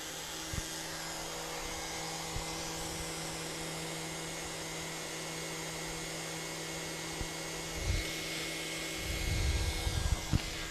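A wind erosion lab wind device runs at its second speed setting, giving a steady, even whoosh with a faint tonal hum and a few light knocks near the end.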